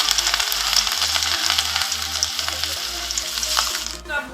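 Curry leaf pakoras deep frying in hot oil give a steady, close crackling sizzle that continues without a break, with no voices.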